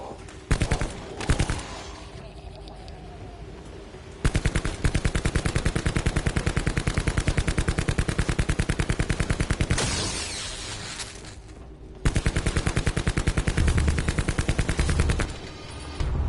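Sustained automatic gunfire from wall-mounted guns in a zombies video game, loud and continuous rapid bursts with short pauses between long volleys.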